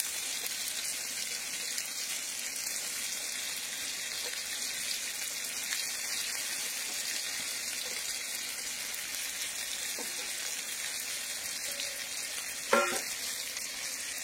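Raw chicken sizzles steadily in a hot pan with spices for a Bengali chicken curry, a constant hissing fry throughout with a brief clink of a utensil near the end.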